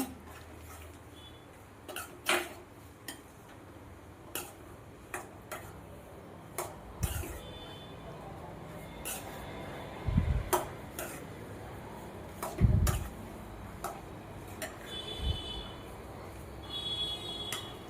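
A spatula stirs potato fry in a pan, giving faint, scattered metallic clicks and scrapes at an irregular pace, with a couple of louder knocks against the pan.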